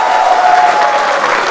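Audience applause at a regional election debate in Malinau, loud and close, a steady wash of many hands clapping for a short burst, with faint crowd murmur.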